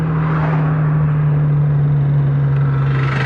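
BMW car on the road near Kitengela, a loud steady engine hum and road rumble heard from inside the cabin, constant and unbroken.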